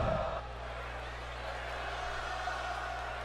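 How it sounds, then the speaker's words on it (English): Crowd cheering in a wrestling video game during a Monday Night Raw show, a steady, dense roar of arena noise that swells briefly at the start and then holds at a constant level throughout. "listen to that crowd reception that he is getting here tonight"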